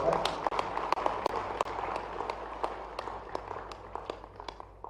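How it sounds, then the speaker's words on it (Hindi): An audience at a government school event in Madhya Pradesh breaks into scattered, fairly close clapping with distinct sharp claps over a steady patter, fading slightly toward the end. "ताली बजाओ तो दिल से बजाएगा।"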